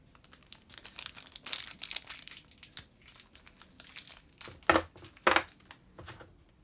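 A small plastic bag holding Raspberry Pi 4 heat sinks is handled close up, giving irregular crinkles and rustles with a few sharper crackling bursts near the end. No one speaks.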